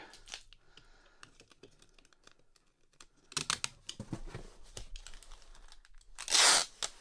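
Packing tape pulled and torn off a cardboard box: scattered crinkles and small taps, then a loud, sustained ripping burst near the end, with no talking.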